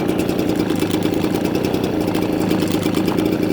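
Ryobi BP42 backpack leaf blower's small two-stroke engine idling at its low-speed setting during a carburetor adjustment, a steady close buzzing drone that holds even throughout without speech.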